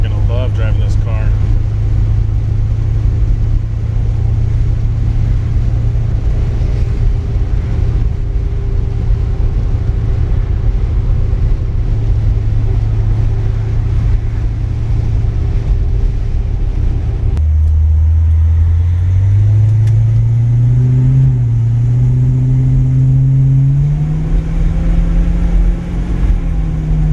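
A 1955 Chevy hardtop fitted with Holley EFI cruises at light throttle, its steady low engine drone holding for a stretch before the pitch climbs as it pulls up through a gear, loud and continuous from inside the car.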